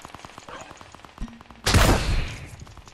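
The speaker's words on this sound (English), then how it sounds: "There are people over there taking pot shots at me." Gunfire in a video game, a few light pops followed by a loud burst of shooting that rings out and trails off, with a voice faintly under it.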